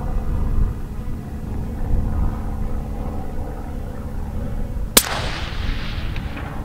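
A single sharp rifle report on an open 300-yard range cracks out partway through, followed by a fading rumble over a steady low background hum.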